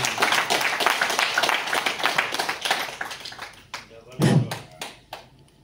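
Clapping from an audience at a business boot camp meeting in Ranchi, a lively burst of individual claps that thins out and fades, with a thud and a voice near the end.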